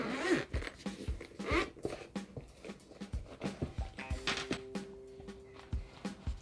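A zipper runs along a rubber headphone case for wireless headphones. It makes several short, close, quiet rasping pulls with handling noise between them, and no voice is heard.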